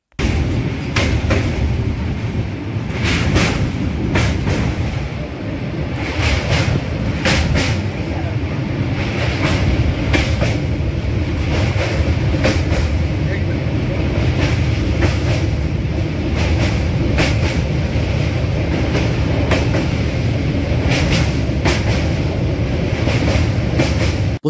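The 13151 Jammu Tawi Express running on rails, heard from inside an AC 3-tier coach: a loud, steady rumble with a regular clickety-clack of wheels over rail joints throughout.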